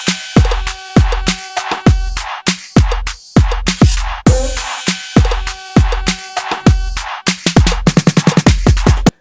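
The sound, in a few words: drop drums in a twerk beat, FL Studio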